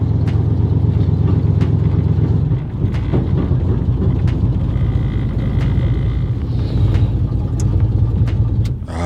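A Chevy El Camino with a 350 engine, its rear shocks rattling as it drives, fills the cabin with a steady, loud road rumble broken by scattered clunks and knocks.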